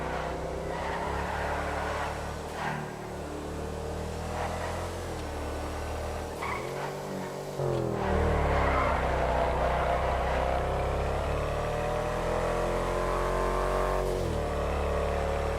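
Two GTA V sport SUVs, an Ubermacht Rebla GTS and a Lampadati Novak, drone and rev steadily in turn, with a continuous engine tone shifting in pitch and a brief dip before building up again, no voices.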